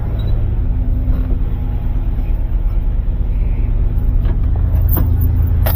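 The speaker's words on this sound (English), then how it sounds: "We're driving my Hoopty 84 Camaro." Steady low road rumble from inside a 1984 Camaro while driving, a continuous loud drone of engine and tires with a few faint clicks and knocks, no speech.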